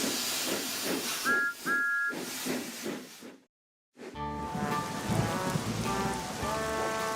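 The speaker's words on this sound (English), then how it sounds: "It was a rainy, muddy day on the island of Sodor." Steady rain on a muddy day on the island of Sodor, a soft continuous hiss of falling rain under music with brief whistle tones, cutting to silence then resuming with music.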